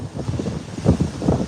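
Wind gusting at sea aboard the P&O Britannia cruise ship off the north coast of Portugal, a steady rushing buffet on the microphone with surges near the end over a heavier swell.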